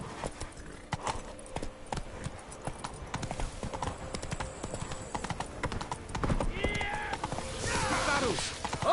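Horse hooves galloping in The Witcher 3, a fast, dense clip-clop rhythm close up, with a whinny and game sounds near the end.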